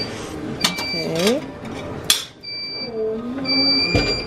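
A waffle maker beeping at a breakfast buffet, two steady electronic tones sounding twice, the second run longer, mixed with clatter and people talking nearby.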